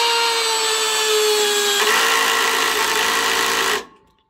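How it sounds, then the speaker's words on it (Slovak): A 12V Parkside cordless drill driving a 6x120 mm screw whirs loudly and steadily, then its tone shifts into a rougher, chattering grind as the clutch slips, before the motor cuts off abruptly. "maximálna sila na spojke nemá na to, aby zaskrutkovala skrutku 6x120 mm"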